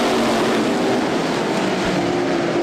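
Dirt-track race cars in a night heat race at Ocala roll down toward the green flag, a loud, steady roar of massed engines droning together at close range without any audible talk.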